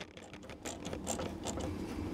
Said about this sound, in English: I'm going to take a wire tie and just kind of take up some of that slack